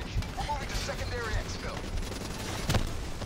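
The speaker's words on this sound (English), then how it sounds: "oh, explosion!" Booming explosions and gunfire-like bursts from Call of Duty Black Ops 3 crackle through a busy, noisy mix, with a sharp blast near the end over constant rumble.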